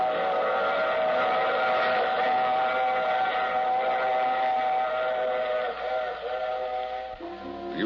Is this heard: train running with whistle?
yes